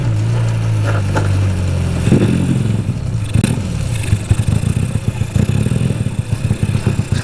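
Yamaha Vega R 200 cc two-cylinder motorcycle on a test ride, engine note steady at first, then rough and uneven with rapid throttle blips and clattering pulses, loud and close.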